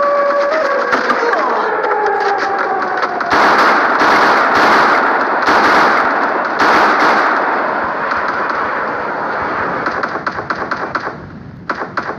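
Rapid bursts of pistol gunfire in a video game, loud sharp shots cracking in quick succession for several seconds, with an electronic tone early on and thinning toward the end.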